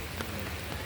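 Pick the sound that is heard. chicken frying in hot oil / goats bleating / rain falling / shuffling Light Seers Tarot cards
rain falling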